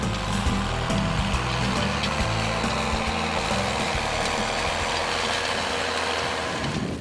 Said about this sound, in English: Oh, watch out, here comes a tractor.